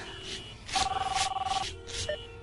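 A telephone bell rings in a cat food commercial, a steady electronic trill lasting about a second, loud against background music and bustle, then a brief tone as it stops.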